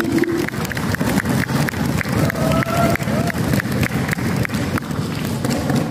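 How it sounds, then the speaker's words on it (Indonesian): An audience claps for a speaker at a talk on facing advanced breast cancer, a dense, loud patter of many hands with a rhythmic pulse running throughout. "Tepuk tangan dong buat saya"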